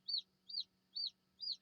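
Newly hatching chicks peep in four evenly spaced, high, clear chirps, close and alone over a faint low hum.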